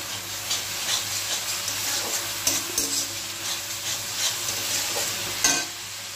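A spice paste (masala) with ginger and jaggery powder fries in a pan while being stirred, a steady close sizzle broken by scraping strokes and a sharper clack near the end, with no talking.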